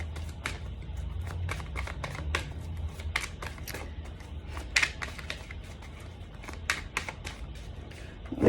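Playing cards are shuffled close up in a quiet room, a run of crisp riffling bursts and taps spread unevenly over several seconds.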